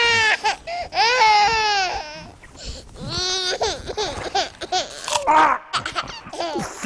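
A baby wails in long rising and falling cries that break into sobbing and babble, loud and close, in a Romanian sitcom household scene.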